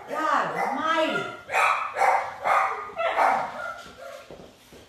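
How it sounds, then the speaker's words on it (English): Several dogs bark in a home kitchen in a run of repeated, fairly close barks and yelps, with short gaps between them and no talk over them. "those are real dogs that are barking for God knows what reason"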